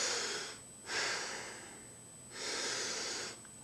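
Exaggerated breathing close to a handheld camera, two long breath sounds with a pause between, airy and hissy, near and fairly quiet with no talk.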